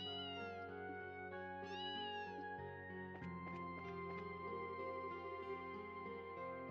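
A cat in the game Trails in the Sky SC meows twice, short and high-pitched, over soft game music, followed by plucked musical notes, with no talking.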